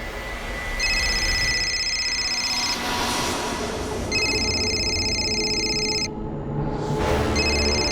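A telephone rings in repeated electronic bursts, two long trills separated by pauses and a third starting at the end, loud and close over a steady background hum, with no speech.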